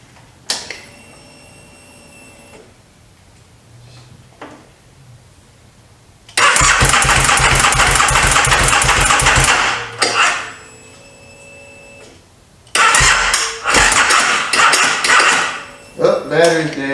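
A 2009-2014 Can-Am Spyder RS, refilled with fresh gas, oil and coolant after a starter clutch bearing replacement, cranks and roars loudly for a few seconds, dies, then fires again in a second loud burst after clicks and quiet handling noises.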